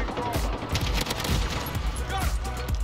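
Rapid, dense AK-47 fire in a video game, continuous loud bursts with overlapping shots and clattering echoes throughout.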